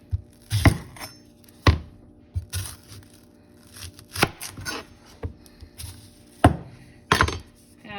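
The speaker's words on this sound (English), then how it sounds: "So I'm finna start by cutting up my vegetables here" A knife chops an onion on a cutting board in a home kitchen. About a dozen sharp, separate thuds land at an irregular, unhurried pace, close and clear against a quiet background.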